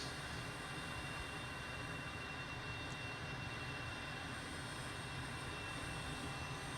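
Twin jet engines of an M-346 trainer idle in a flight simulator, a steady, even whine and roar with a high tonal hiss, constant in level and free of talk.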